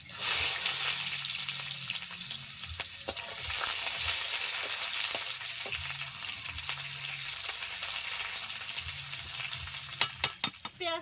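Onion hisses in hot mustard oil with black cumin in a very hot wok, a steady loud sizzle throughout, with occasional spatula scrapes and a few sharp clinks near the end.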